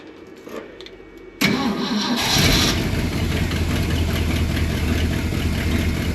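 Big Bertha's engine cranks over on a remote starter and catches with a sudden loud burst, then settles into a steady rough idle close by.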